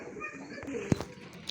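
A racing pigeon cooing, one short low coo amid faint background sounds and light chirps, close by.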